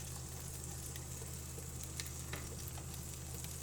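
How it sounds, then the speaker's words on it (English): Scrambled egg sizzles steadily in an egg ring on a hot cooking surface, a dense, even crackling hiss with a few sharper pops. It runs continuously with no voices. "I'm going to add the scrambled egg into the egg ring."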